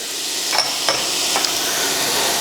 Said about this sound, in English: And we add some onion. And I have some chopped carrot.